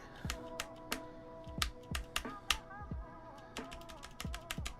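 Keys clack on a GMMK Pro mechanical keyboard, with crisp close presses in irregular bursts and repeated taps of a slightly wobbly enter key, quiet and alone.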